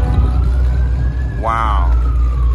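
A fire truck's siren sweeps up sharply near the middle and then trails off, sounding at moderate distance over a steady low traffic rumble on a Las Vegas street, with someone talking faintly underneath.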